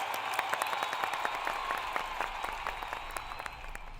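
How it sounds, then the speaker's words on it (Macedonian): Audience applause at a Macedonian satirical news show, a steady wash of many hands clapping with dense sharp claps throughout, loud and close, with a faint voice or two mixed in. "Аплауз."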